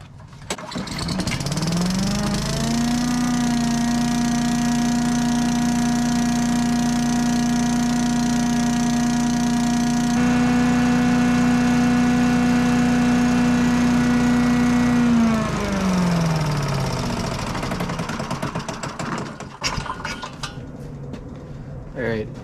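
A small gasoline lawn mower engine with its bag fitted starts up, settles into a loud, steady drone for about thirteen seconds, then winds down and stops.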